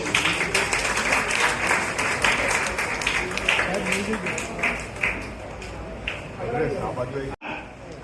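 Applause from the audience at a hospital charity event, a dense steady patter of many hands clapping that fills the room, then drops off abruptly near the end while voices murmur underneath.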